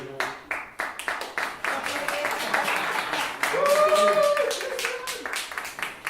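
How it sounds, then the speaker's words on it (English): A room full of people applauding, steady clapping that swells and carries on for several seconds, with a tonal voice-like sound rising briefly near the end. "That's why we're applauding."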